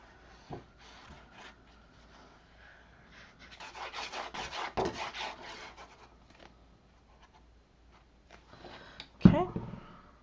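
Paper being burnished down by hand on a Halloween haunted house mini album, a soft rubbing rasp building in bursts mid-clip with a sharper knock near the end, close and fairly quiet, with talk around it.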